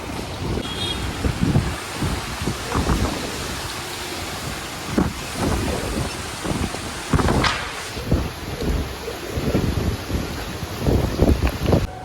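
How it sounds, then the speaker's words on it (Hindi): Heavy rain pours steadily with gusty wind roaring over it, a dense, continuous wash of noise with occasional louder thumps and rattles. "इतनी तेज़ बारिश हो रही है"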